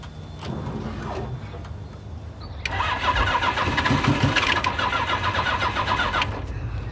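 A car engine is cranked and catches, settling into a steady mid-pitched idle that holds at close range, with no talking.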